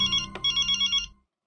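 A telephone rings in a Hindi TV sitcom scene: a bright electronic ringtone pulses in quick, even beats for about a second, with one sharp click partway through, then stops abruptly into silence.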